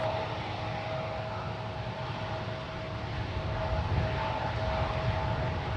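A Boeing 767-300ER BDSF freighter jet at San Francisco International Airport rumbles steadily in the distance, a broad, continuous engine roar with a faint sustained whine, no talking.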